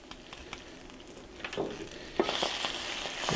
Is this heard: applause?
no